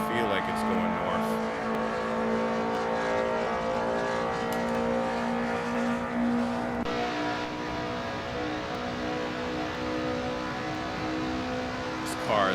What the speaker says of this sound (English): This car is maxed out at 145 miles per hour, 148, 149.